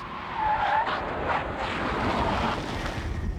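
A 1994 Dodge Neon with optional ABS brakes hard from 100 km/h during a brake test, its tyres giving a sustained skidding squeal over steady road and wind noise, with no talking.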